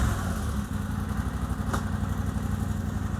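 KTM 890 Adventure R motorcycle engine idling with a Rekluse auto clutch fitted, a steady low throbbing rumble with light mechanical clatter, close and continuous throughout.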